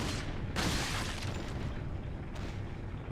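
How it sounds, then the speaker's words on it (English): In the video game Resident Evil 4, a wet, heavy splort lands as a sudden broadband burst over dense game noise, with a second softer hit a couple of seconds later. "I still love this game's splort sound."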